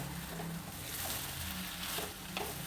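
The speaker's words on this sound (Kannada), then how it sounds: "ಇದನ್ನು ಒಂದು ನಿಮಿಷ ಹುರಿಬೇಕಷ್ಟೇ ಒಗ್ಗರಣೆಯಲ್ಲಿ" Mango gojju frying in an oil tempering for a festival rice dish, a steady close hiss and sizzle with faint stirring scrapes throughout, no talking.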